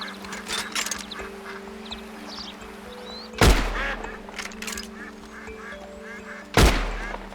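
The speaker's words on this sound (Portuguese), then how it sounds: "Consegui abater um pato" Two loud, abrupt duck quacks from a pond-side hunting video game, one near the middle and one near the end, over a steady ambient hum with faint chirps and a few soft knocks at the start.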